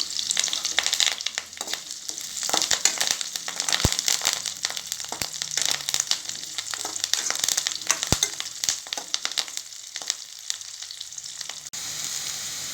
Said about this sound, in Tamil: இப்போ கறி லீவ்ஸ் ஆட் பண்ணிக்கிறேன்